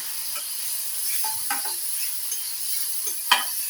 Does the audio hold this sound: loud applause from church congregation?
no